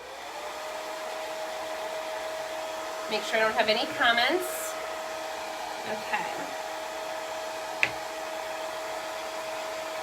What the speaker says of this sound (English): let me hit this with the blow dryer